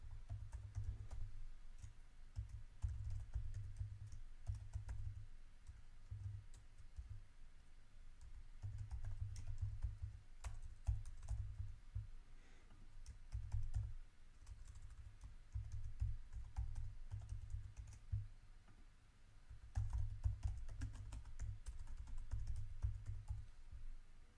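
An email address is typed on a computer keyboard in a long run of quiet, rapid key clicks that come in bursts with short pauses, faint and close, with no one talking.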